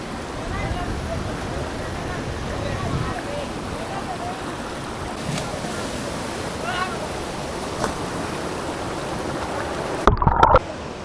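A small waterfall in the Sikidiri valley pours as a steady, broad rush of water close by, continuous throughout, with a brief louder splash or handling burst near the end.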